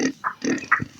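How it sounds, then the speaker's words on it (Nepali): A pig in its pen on a small farm gives a few short, close grunts and snorts in quick bursts, with small gaps between them. "हाम्रो चाहिँ सुँगुर यस्तो छ गाइस हेर्न सक्नुहुन्छ"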